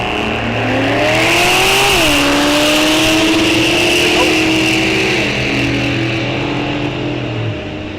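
Drag strip run pairing a 1997 Corvette in the right lane against a Chevrolet S10 in the left, engines roaring loud and steady, pitch climbing through a shift near the start and holding high across the pass.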